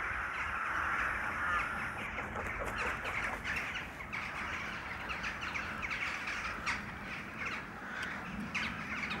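Many crows caw repeatedly around a nest site outdoors, a steady overlapping chorus of harsh calls at moderate distance with no talking.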